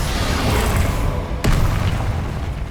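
A Confringo blasting spell explodes in Hogwarts Legacy amid a dense, loud battle roar, with one sharp booming impact cutting through midway over constant rumbling combat noise.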